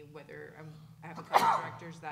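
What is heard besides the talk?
loud sneeze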